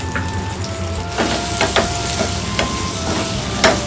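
Chopped tomatoes fry in a pan over a medium gas flame for paneer green peas masala, a loud continuous sizzle broken by several scraping stirs from a spoon, close and with no talking.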